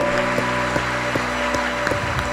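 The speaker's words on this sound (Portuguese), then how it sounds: "Vamos dar mais um aplauso ao Senhor" A church congregation at a Portuguese-language service claps in a slow, steady beat, evenly spaced claps over a sustained tonal musical hum filling the room.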